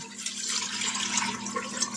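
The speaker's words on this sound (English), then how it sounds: "We're going to add 2 quarts of water because I'm doubling." Two quarts of water pour into a pot on the stove for a doubled batch of pickled okra brine, making a continuous splashing rush from close by.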